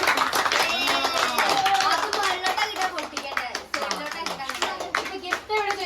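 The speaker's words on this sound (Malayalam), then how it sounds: "എല്ലാരും ക്ലാപ്പ് അടിക്കുന്നു" At a child's birthday party, a group claps in a quick, uneven patter, fairly close, while children and adults talk over and between the claps.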